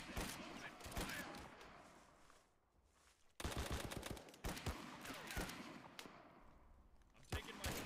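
Gunfire in a war video game: rapid automatic bursts and single shots crack out in clusters with brief lulls between them, while voices call out over the shooting.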